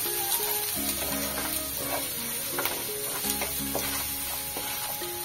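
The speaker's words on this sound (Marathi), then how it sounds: "हे पण छान असं फ्राय करून घ्यायचंय, अशा पद्धतीने छानपैकी फ्राय करून घ्यायचं।" Grated ginger and garlic frying in a pan for stuffed brinjal masala, a steady close sizzle with scraping stirs and a low tonal hum underneath throughout.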